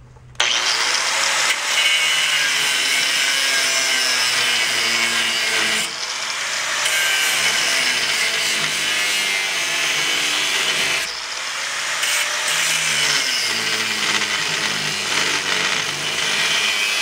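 A broken truck leaf spring being cut with a power tool, a loud, continuous harsh grinding rasp that dips briefly twice as the cut is repositioned, with no talking.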